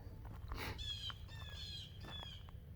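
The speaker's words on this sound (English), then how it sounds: "I hear a blue jay." A few short, harsh blue jay calls ring out at a distance over a steady low hum, in a quiet outdoor setting.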